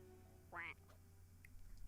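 A single loud duck quack rings out over a low steady hum, followed by faint quieter sounds.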